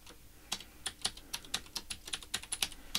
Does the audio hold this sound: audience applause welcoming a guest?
no